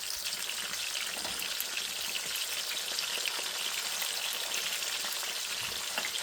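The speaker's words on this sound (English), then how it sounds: "So we're going to be cooking the fish on medium heat, cooking on both sides for a few minutes" Fish frying in a pan over medium heat gives off a dense, unbroken sizzle that holds steady and fairly loud throughout, with no voices.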